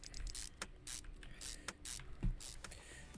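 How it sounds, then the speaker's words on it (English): A ratchet bolting a transmission back up in the Car Mechanic Simulator 2021 video game, rapid bursts of clicking with short mechanical clanks, close and fairly quiet, and no voice during the bursts. "I'm just going to bolt the tranny back up"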